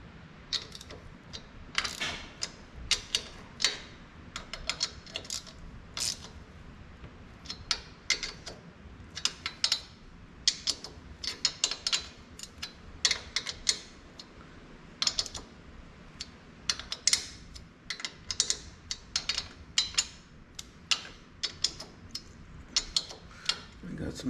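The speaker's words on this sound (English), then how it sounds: "1/4 inch ratchet" A 1/4-inch ratchet tightening a fastener on a John Deere STX38 lawn tractor during front axle work, giving bursts of quick, sharp clicks close by that repeat in irregular runs throughout.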